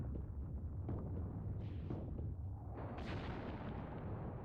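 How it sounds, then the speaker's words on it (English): Enemy artillery fire in the Mius Front war game sounds as heavy, rumbling booms and crackling impacts, several blasts overlapping in a continuous, moderately distant barrage. "Crossroads is being targeted by the enemy artillery,"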